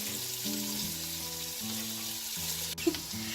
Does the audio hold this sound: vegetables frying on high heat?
yes